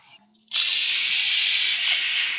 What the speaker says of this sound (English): You hear what sounds like a blowtorch.